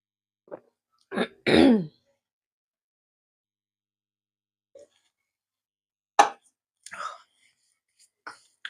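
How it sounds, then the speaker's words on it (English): Someone clears their throat in a quiet kitchen while baking chocolate chip cookies: a few short rough bursts, with scattered soft whispered sounds and long silences between them. "Clear my throat."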